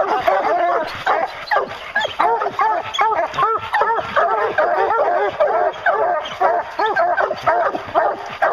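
Hunting hounds bark, yip and bay excitedly at a bear up a tree, a dense, continuous chorus of several dogs close by, with someone shouting over them.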